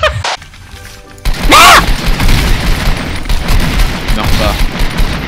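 Shotgun blasts in a DarkRP multiplayer game, loud sharp bursts over chaotic game noise with a heavy crash early on, while people talk throughout.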